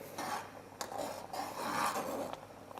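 A utensil scrapes and stirs around a pot of boiling Korean radish soup (muguk) with soft, continuous rubbing and clinks over a low bubbling simmer, fairly quiet and close.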